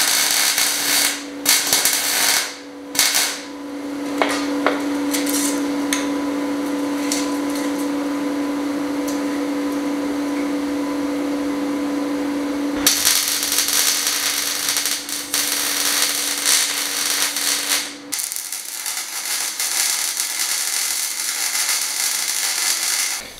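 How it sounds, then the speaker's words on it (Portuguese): Tack welding a 3/8-inch steel rod in place on a homemade tiller blade in a workshop, a steady loud buzzing hum that runs throughout with crackling bursts and a brief break near the end, no talk. "Eu vou soldar ele nessa posição aí, ó."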